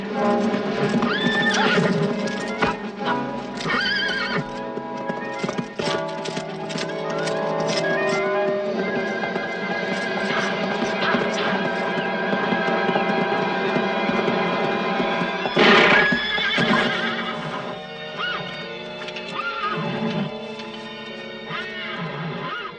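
A horse neighs loudly over steady clopping hooves, with music and busy background noise running throughout.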